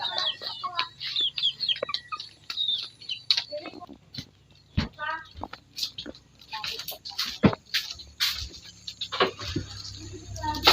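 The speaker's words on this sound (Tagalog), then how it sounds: "Ang manok nanuktok pa." Chickens cluck in short bursts at a Filipino home market setting, with sporadic calls over background chatter and clatter; people talk nearby throughout.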